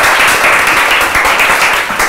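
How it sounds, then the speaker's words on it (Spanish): Lively audience applause at a live comedy show, loud and continuous clapping from a packed crowd close by, with no talk over it. "¡Aplausos al niño de la hipoteca!"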